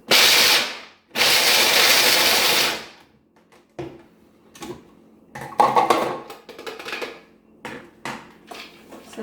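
Almonds coarsely ground in a kitchen machine: two loud whirring grinding bursts at the start, then quieter clatter and tapping of nuts and container handling, with no talk.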